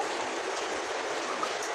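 Coconut water spills out of a freshly opened coconut in a soft, continuous trickling hiss, brief and fairly faint.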